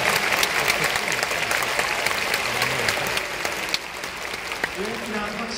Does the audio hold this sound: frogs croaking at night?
no